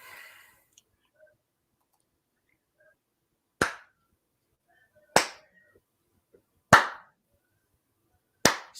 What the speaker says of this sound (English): Slow clap for my man.